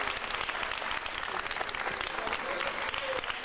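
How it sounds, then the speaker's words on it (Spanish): Sustained applause from an audience, dense and steady clapping filling the whole stretch at an even loudness. "Bueno, vamos a darle un aplauso"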